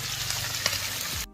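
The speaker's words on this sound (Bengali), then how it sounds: "মাছ ভাজা।" Fish fries in oil over a wood-fired stove, a brief close, steady sizzle that cuts off abruptly at the end.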